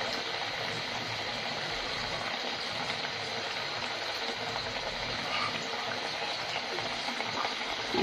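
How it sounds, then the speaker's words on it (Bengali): Steady, even sizzling of eggs frying with spices in a pan, a continuous crackling hiss at moderate level with no talking. "এখন মশলার সাথে ডিমগুলোকে নেড়ে ভালো করে মিশিয়ে দিব।"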